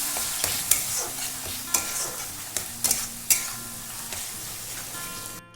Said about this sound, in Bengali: দিয়ে দিচ্ছি টমেটো পেস্ট, দিয়ে এটাকে ভালো করে কষিয়ে নেব।